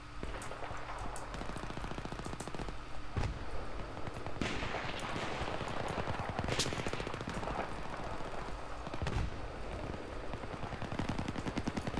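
Rapid bursts of automatic gunfire and single shots in the Battlefield 3 video game, dense and loud throughout with sharp cracks punctuating a continuous battle din.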